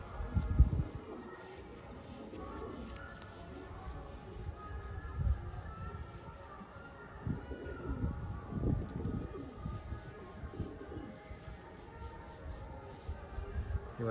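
Tamra petiya high flyer pigeons coo softly and intermittently, low rumbling calls repeating through a quiet enclosure, with faint rustling and occasional light background noise.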